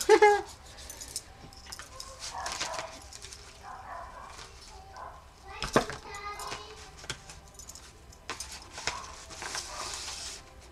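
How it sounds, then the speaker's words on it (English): Dogs barking and whimpering in the background of a busy home during a papercraft session, with sharp yaps breaking out over a voice as she talks throughout. "Now I've got the dogs going in the background."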